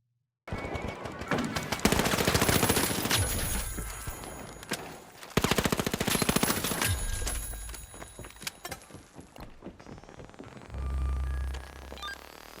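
Rapid bursts of SMG fire from a light-class weapon in the shooter game The Finals, two long loud automatic strings with short pauses, then a low rumble near the end.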